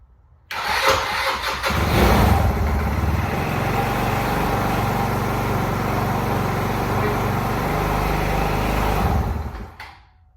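GY6 engine on a Vitacci Rocket scooter fitted with an aftermarket CDI starts after a brief crank, then runs at a loud, steady idle for about eight seconds before cutting off, close by with no talking.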